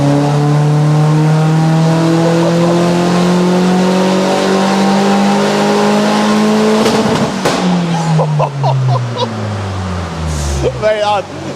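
A VW Fox GTI engine revs hard on a dyno, its loud tone rising steadily for several seconds before cutting off sharply, followed by crackles and pops as it winds down.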